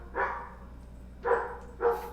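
A dog gives three distinct barks, one and then a quick pair after a pause, heard moderately close against a quiet background.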